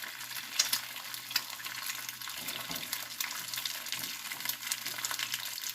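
A single egg fries in oil in a hot wok over medium-high heat, a soft, steady crackling sizzle with a few sharper pops, fairly quiet and with no talk.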